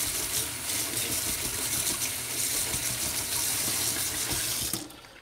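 Running tap water splashes steadily while an acrylic paint brush is rinsed and scrubbed in a sink, a continuous close gush that cuts off near the end.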